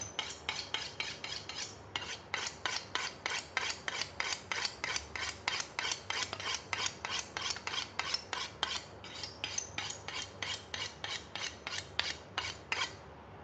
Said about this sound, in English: let's sharpen up the knife first